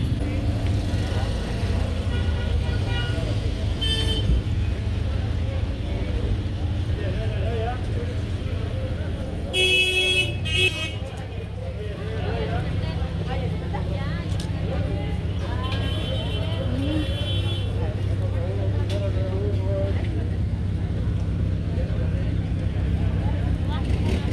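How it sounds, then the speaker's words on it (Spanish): Traffic rolls past at a town exit in Guatemala: engines hum and idle steadily, with a horn toot and passing vehicles, while people talk nearby over the noise. "Se parquean los carros de Los Llanos."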